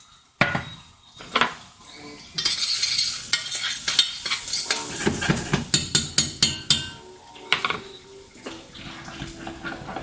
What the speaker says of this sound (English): Add a little bit more olive oil just to encourage the